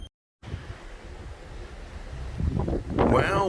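Wind rushes across an open cold ship deck in Alaska, gusting and buffeting the microphone, growing rougher and louder toward the end.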